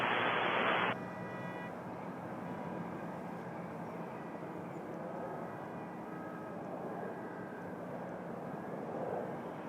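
A regional jet airliner rolls for takeoff at Toronto Pearson airport, a steady, moderately distant engine roar that holds evenly throughout after a brief louder opening burst.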